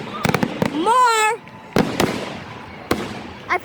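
Fireworks bursting over a beach during Canada Day celebrations, several sharp distant bangs spaced out across the moment while a voice cheers and whoops excitedly over them.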